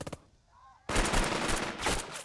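Gunfire erupts in the Burden of Command video game, a sudden loud burst of rapid shots that keeps rattling for over a second, following a quieter moment with faint chirping sounds.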